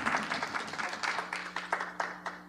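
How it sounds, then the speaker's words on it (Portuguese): Applause from an audience at an academic research conference, a steady patter of many hands clapping at moderate distance, alone without speech. "Uma salva de palmas."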